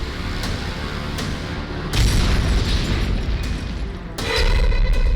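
Booming blasts from rockets and shells fired from the air at Taliban positions, loud and continuous, with heavy rumbling surges that swell at about two and four seconds.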